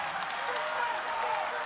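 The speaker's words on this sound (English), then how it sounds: "Crowd is into this one." At a college wrestling match, spectators in an arena give a faint, short burst of applause and crowd noise, heard under a commentator's voice.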